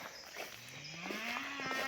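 Young bulls on a farm give a single drawn-out moo that rises in pitch, close and clear with faint outdoor background and no talking.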